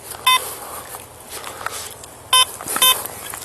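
A metal detector gives a few short, sharp electronic false beeps outdoors, separated by quiet stretches of soft rustling.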